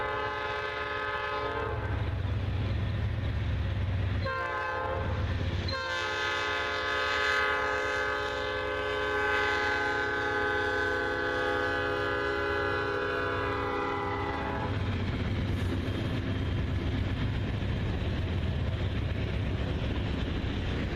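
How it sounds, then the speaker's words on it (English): A loud, sustained Norfolk Southern freight train horn blares for several seconds over the rumble of a westbound train passing through Wauhatchie, then fades into steady rolling rail noise. "A Norfolk Southern westbound heads through Wauhatchie with a very familiar"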